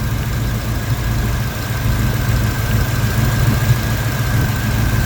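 A 1968 Chevy Camaro SS engine idling on a cold start with a misfire, a steady low rumbling drone that holds evenly throughout, close and fairly loud, with no talking.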